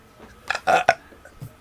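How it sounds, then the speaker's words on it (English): A short, close burp in a few gurgling bursts, with faint voice sounds around it. "That was a burp."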